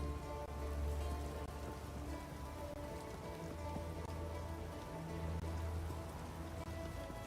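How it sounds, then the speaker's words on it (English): Steady rain falling outside, a faint, even hiss of drops on surfaces with a low hum underneath and no break throughout. "But I think it's still raining"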